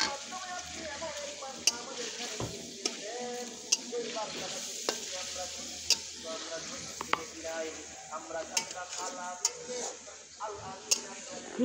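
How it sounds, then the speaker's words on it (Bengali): Beef curry spices being stirred and fried in a pot, likely over a wood fire, with a close sizzle and repeated sharp scrapes and clinks of the spoon. Voices talk in the background. "ভালো করে কষায় নাও মশলা।"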